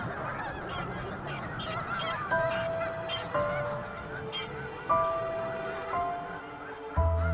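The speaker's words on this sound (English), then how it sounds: "The snow geese are preoccupied." Snow geese honking in an Arctic nesting colony, several loud nasal calls rising over a busy background of distant flock chatter, with no talking.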